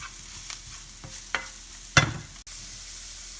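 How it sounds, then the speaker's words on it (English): Stemless shiitake mushrooms fry in hot oil in a pan for a Szechuan steak salad, a soft steady sizzle broken by several scraping stirs and one louder clatter near the middle. "we're gonna go in with the shiitake mushrooms, and I made sure to remove all the stems. I'm gonna throw all this in here."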